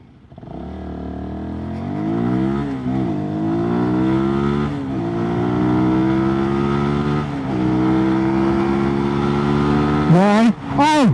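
A 2022 Sinnis SM-R 125 motorcycle pulls away and accelerates hard through several gears, its engine note climbing steadily, dipping at each shift, then rising again, loud and close throughout.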